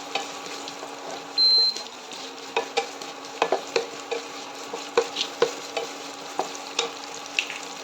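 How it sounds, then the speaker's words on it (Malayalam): Julienned ginger, about three tablespoons, sautéing in a pan for watermelon rind pickle, a steady sizzle broken by regular scrapes and stirs of a spoon, close and moderately loud with no talking. "നീളത്തിലരിഞ്ഞ ഇഞ്ചി, അതും ഒരു 3 ടേബിൾ സ്പൂൺ ചേർത്ത് കൊടുക്കുക. നല്ലപോലെ വഴറ്റി കൊടുക്കുക."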